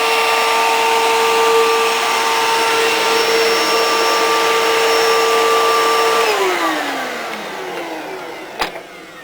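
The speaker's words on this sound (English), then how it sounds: "the vacuum seems to work pretty damn good now after it unclogged itself" A Hoover Elite Rewind bagless vacuum cleaner runs with a loud steady whine, then switches off and its motor winds down to near silence, ending with a soft click.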